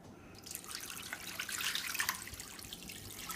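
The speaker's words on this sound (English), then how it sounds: "Now, this one you want to just pour some water over the top." Water poured from above into a pot of chicken wings for bone broth, a soft splashing, gurgling stream that swells and settles, fairly quiet and close.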